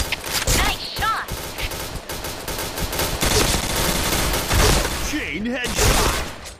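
FAMAS G2 Commando rifle fire in the Point Blank PC shooter, rapid loud bursts and repeated shots filling the clip, with game sound effects and voices mixed in.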